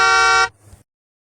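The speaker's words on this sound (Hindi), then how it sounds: "अचानक ट्रक का हॉर्न बजने लगा," Truck horn sounding as an effect in a Hindi highway horror story: one loud, blaring, flat horn blast lasting under half a second, cut off abruptly into silence.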